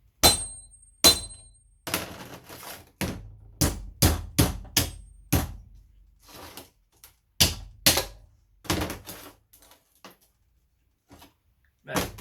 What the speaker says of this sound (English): You just bend this tab back and then you can peel that off.